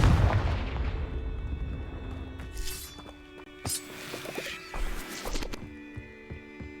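Confringo fire spell cast in Hogwarts Legacy, a blast followed by a series of sharp cracking impacts and booms scattered over several seconds, with a ringing decaying tail.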